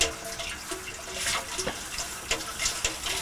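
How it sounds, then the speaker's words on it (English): Hot water poured into a beer keg during cleaning, a steady close rushing and splashing flow with slight gurgling swells, no talk. "Okay, put some more hot water in there."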